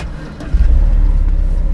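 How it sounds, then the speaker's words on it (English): A car engine turns over and catches about halfway through, settling into a loud, close, rumbling idle after a brief quiet start. "turn the engine on"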